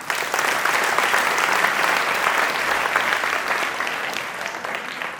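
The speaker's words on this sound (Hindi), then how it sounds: "तो एक बार जोरदार ताली बजाओ" Loud, sustained applause from a seminar audience fills the room, dense clapping continuing steadily for several seconds before easing slightly toward the end.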